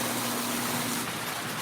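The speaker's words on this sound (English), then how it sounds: "Very noisy water tower." A model railroad water tower accessory runs with a loud, steady noisy whir and hum, continuous and close, with no talking.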